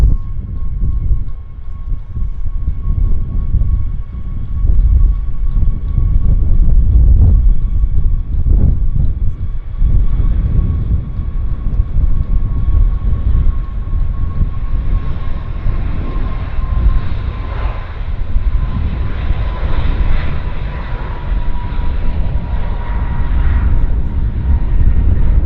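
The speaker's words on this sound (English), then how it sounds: "Air Canada's on the roll, on its way to Sin City." An Air Canada airliner rolls for takeoff at Vancouver Airport, a steady loud jet roar with a thin whining tone, building and holding throughout at moderate distance.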